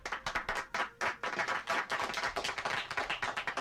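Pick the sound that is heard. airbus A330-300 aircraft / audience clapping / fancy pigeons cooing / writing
audience clapping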